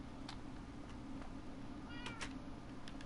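A cat in a video game meows a few times, short clear cries over a steady background hum, with no one talking.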